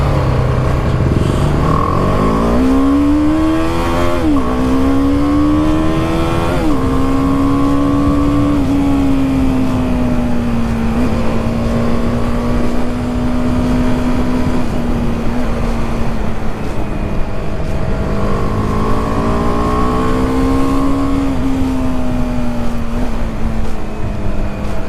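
A BMW G310R, a 310cc single-cylinder motorcycle, is ridden steadily along a road, its engine droning loud and close with rising revs through gear changes and long stretches of even cruising throughout.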